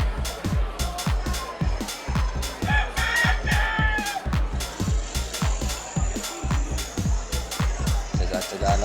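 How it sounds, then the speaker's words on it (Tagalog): Chickens and roosters in a yard, crowing loudly and clucking close by, while a steady rhythmic knocking of work goes on underneath. "Ingay ng manok."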